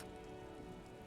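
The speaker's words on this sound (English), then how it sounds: "It's raining." Rain falling in the video game Disco Elysium, a soft, even hiss of steady rainfall with a low background drone, faint and continuous over a brief moment.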